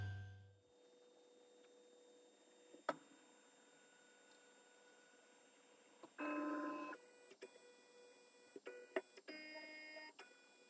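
A Kywoo Tycoon Max linear-rail 3D printer homes its axes, giving a faint steady hum with sharp clicks from stepper motors, then a brief louder motor buzz and a few more clicks and short whirs in a quiet room.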